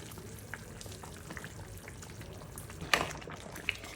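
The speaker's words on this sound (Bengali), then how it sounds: "এবার তরকারিটা টক বক করে ফুটে উঠলে এর মধ্যে আমি একে একে মাছ এর মাথা লেজার সবগুলি পিস দিয়ে দেবো" Mrigal fish head and tail pieces go one by one into a bubbling potato and green tomato curry. A faint, steady simmer runs throughout, broken by a brief sharp splash and a smaller plop near the end.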